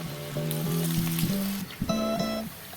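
Green gram bonda balls fry in hot oil with a steady, low sizzle that runs through the whole stretch, partly covered by a louder melodic tone.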